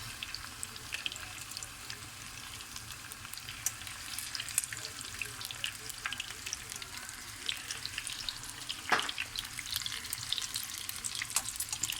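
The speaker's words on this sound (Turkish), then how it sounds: "Gördüğünüz gibi güzel güzel kızarmaya başladı." Cauliflower florets fry in a pan of oil with a steady, close crackling sizzle throughout, broken by a single brief louder pop near the end; no voices.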